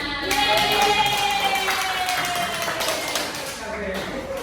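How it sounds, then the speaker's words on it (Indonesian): A classroom of students claps together in a steady, dense patter that carries through the whole stretch, with a teacher's voice talking over it. "Oke, tepuk tangan buat kita semuanya."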